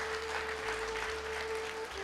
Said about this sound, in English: a round of applause to Nayanthara, her family and Sacred Space for creating this beautiful space